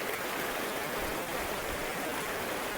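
River water at Srirangapatnam near Mysore rushes past in an even, continuous hiss, a soft steady wash with no voices over it.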